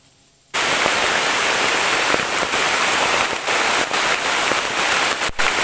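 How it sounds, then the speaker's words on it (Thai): After a brief quiet moment, a loud, steady downpour starts in a forest and continues, a thick hiss of heavy rain with occasional sharper drips and crackles. "ตอนนี้ฝนตกหนักมากเลยครับท่านผู้ชม"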